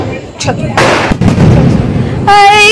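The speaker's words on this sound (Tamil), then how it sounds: "நம்ம போய் பட்டாசு வெடிக்க ஆரம்பிக்கலாம்" A couple of sharp firecracker pops and a crackling burst at a Diwali celebration, followed by a whistling, rising tone, with a voice speaking among the bangs.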